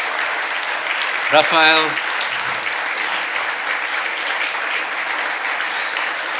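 A conference audience at NixCon 2025 gives the organizers sustained applause, a dense, even wash of clapping that runs throughout, while a man briefly calls out a name near the start.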